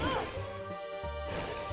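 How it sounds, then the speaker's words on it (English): A sharp smashing thwack as a punch lands on a farmer in the video game Adventurer Manager, a heavy crunching hit followed by a second impact over a continuous tonal game backdrop. "Just punch the farmer."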